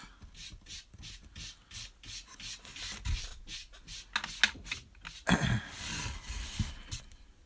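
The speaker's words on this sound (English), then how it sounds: "I'm going to grab my U-gouge and carve towards that carved line I just made to get a nice clean break in the MDF" A hand U-gouge carves into MDF with a steady run of close, rasping scrapes and small clicks, getting sharper and louder toward the end, with no voices.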